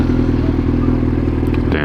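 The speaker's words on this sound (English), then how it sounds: "let's listen to this Yamaha starting problem real quick" A 20-year-old Yamaha motorcycle with a starting problem runs loud and close, a steady low engine drone with a rhythmic pulse, ending in a brief rougher burst.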